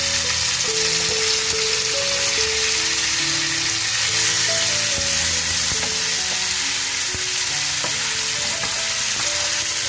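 Chillies and lentils fry in a pan with a loud, continuous close-up sizzle and crackle that stays dense and even throughout, with no talking.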